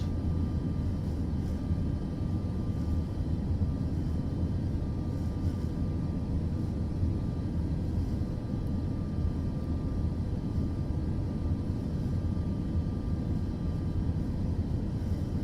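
Boeing 737 jet engines at maximum thrust in Microsoft Flight Simulator 2024 with 10% flaps, a steady low broadband roar with a faint tonal whine, unbroken throughout and with no talk.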